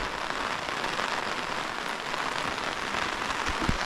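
Rain patters steadily on a surface nearby, a constant hiss of drops with occasional louder taps and no talking.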